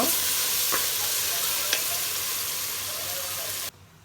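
Tomatoes going into a pan of frying onions for chicken curry hiss in a steady, loud sizzle, with a couple of faint stirring knocks, before the sound cuts off abruptly near the end.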